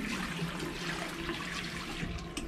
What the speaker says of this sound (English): To use this faucet,